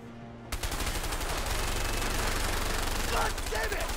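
Sniper gunfire from rooftop shooters in the video game A Way Out: a steady, loud stream of rapid shots that starts abruptly and keeps going without a break, with a few brief voice-like cries near the end.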